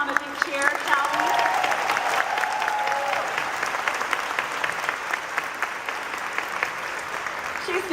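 Convention crowd cheering and applauding at a stamping event demonstration, a dense, sustained wash of clapping with scattered whoops lasting throughout, fairly loud and close, fading slightly toward the end.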